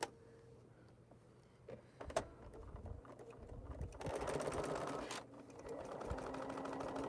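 A Bernina sewing machine stitches quilt fabric in short bursts, with a denser steady run in the middle stretch, close and moderately loud, with small handling clicks between.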